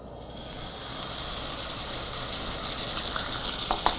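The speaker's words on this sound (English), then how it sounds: "If I don't hear that initial sizzle and sear, pull the steak off immediately" A steak sears in hot oil, its fat just starting to render, giving a steady close sizzle with a bright hissing crackle that rises over the first half second and holds, with a few sharper pops near the end.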